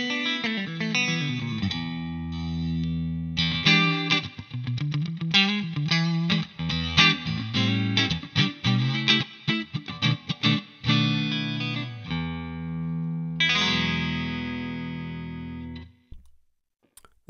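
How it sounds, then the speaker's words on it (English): A NUX Mighty Plug Pro MP-3 headphone amp plays a clean guitar preset with a little reverb, a continuous run of chords and single-note lines that rings out and decays near the end, loud and alone. "A little bit of reverb."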